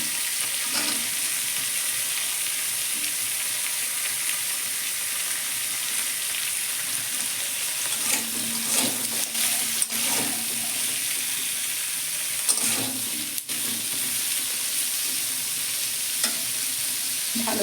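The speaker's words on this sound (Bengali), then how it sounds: "আগে কেটে পেঁয়াজ ভেজে নেব" Onions frying in a wok, an even close sizzle running throughout with repeated stirring scrapes and clinks of a spatula against the pan, no voices.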